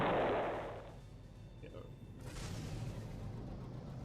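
A game explosion in No Man's Sky bursts loudly at the start, a broad roar fading over about a second into a low rumbling background that swells again midway.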